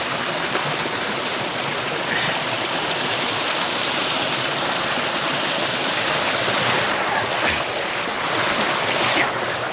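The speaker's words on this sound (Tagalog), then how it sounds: "Pangalawang mini falls na nadaanan namin." A small waterfall along a hiking trail, a loud, steady rush of falling and flowing water heard nearby and continuing without a break.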